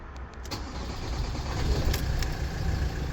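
A Ford Transit Mk8 van engine cranks and catches, settling into a steady low idle with a rising mid-level rumble, recorded close by without talk.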